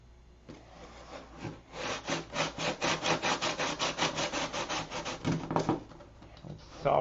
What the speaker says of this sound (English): It's soft wood, so it sands out real easy.